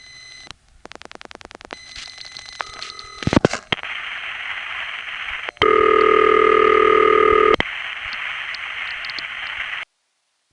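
A telephone call through an old panel exchange, with rapid clicks and tones early on, then static and hiss and a long loud steady ringing tone, followed by more static before it cuts off.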